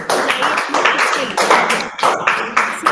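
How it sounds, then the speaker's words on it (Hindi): An audience at an emotional intelligence seminar in India claps in a series of bursts, loud and close, with brief pauses between rounds of applause and overlapping voices. "एक बार बजा के बताएं और मेरे साथ ताली बजाएं।"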